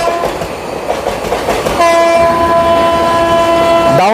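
The Howrah–Malda Town Intercity Express passes close by near Howrah with wheels clattering on the rails, then its horn blares in a long, loud sustained blast over the rolling train noise.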